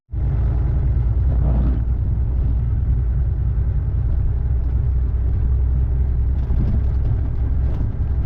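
Strong 40 to 50 mph wind buffeting a person outdoors amid swaying trees, a steady loud low roar and rumble that persists without a break, with a few brief gusty swells.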